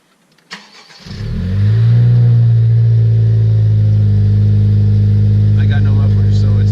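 A 2017 Honda Civic EX-T with a catless downpipe, muffler delete and cold air intake starts up at about one second and settles into a loud, steady, close idle with a deep throaty drone that continues to the end.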